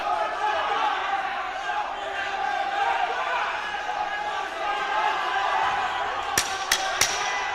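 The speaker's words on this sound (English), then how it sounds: "The crowd roaring their appreciation for their man." A crowd roars steadily at a youth MMA championship bout, a dense, continuous wash of cheering that carries under a commentator's voice, with a few sharp thuds near the end.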